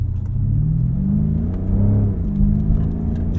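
A 2021 BMW F90 M5 engine accelerating, a steady deep rumble heard from inside the car that rises slightly in pitch as it pulls, with no talking.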